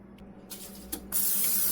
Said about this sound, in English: Grease the pan really well with some non-stick cooking spray